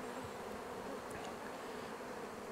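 Honey bees hum in a thick, steady drone around a hive during honey harvesting with escape boards set, a continuous close buzz that never lets up, with no speech.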